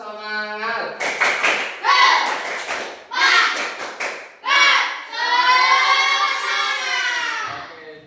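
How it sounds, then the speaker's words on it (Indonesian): A class of children doing a rhythmic spirit clap: short bursts of group clapping alternate with loud chanted voices, ending in a long sustained shout. "Satu kali tepuk semangat."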